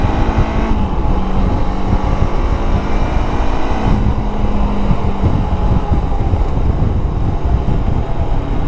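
A Zongshen RX3s dual-cylinder motorcycle pulls from low revs in fourth gear on a ride in Lahore, its engine and exhaust giving a loud, close, continuous throbbing drone that climbs steadily in pitch.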